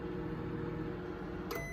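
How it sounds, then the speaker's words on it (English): A microwave oven heating chopped hot dogs hums steadily, then a short electronic beep sounds near the end as the cycle finishes. "So the microwave worked this time."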